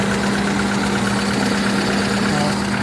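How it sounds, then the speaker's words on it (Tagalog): A Hyundai Atoz engine idles after a blow-by treatment, giving a loud, steady hum with a constant low drone and faint rhythmic knocking, heard close up without a break. "Umaandar yung engine guys."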